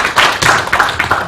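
An audience at a panel discussion on agriculture and food policy in Chungbuk bursts into a short round of applause, heard as a few uneven bursts of clapping over about a second.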